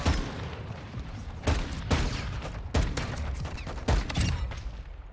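Gunfire in a shooter video game, with about five sharp, loud shots spaced irregularly over a few seconds against a constant background rumble.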